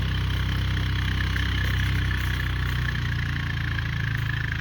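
A car engine while driving, a steady low drone with a constant hum throughout, close and even in level, with no voices.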